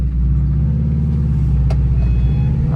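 A car bought cheaply at auction coasts off the throttle at around 60 on a still-wet road, its deep steady engine and road rumble loud and constant, with a short sharp tick partway through.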